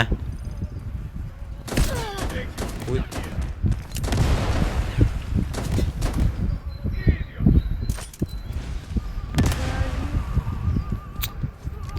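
Bursts of rapid gunfire and sharp shots from the mobile shooter game Delta Force, with explosive bangs and game sound effects; a voice speaks briefly in between.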